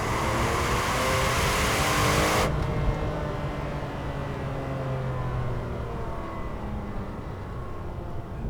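A Ferrari 456 GT's V12 engine pulls hard under acceleration, a loud continuous roar that sweeps upward and then drops to a steadier, lower drone as the car keeps going.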